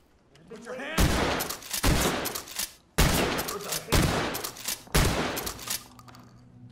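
Video game gunfire as a suspect is shot in a Lethal Obsession level: several loud, rapid bursts of shots in quick succession, each fading briefly before the next, with no talking.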